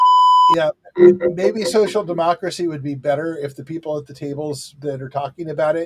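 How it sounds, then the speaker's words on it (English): A steady electronic tone rings out alone for about half a second, a phone notification beep that cuts off just before a person starts talking. "Sorry, that's my phone."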